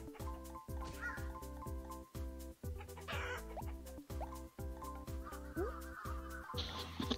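Clucking chickens in a video game, heard as short bird calls over a steady, rhythmic game music loop with pulsing low beats, occasional honk-like squawks breaking through near the end.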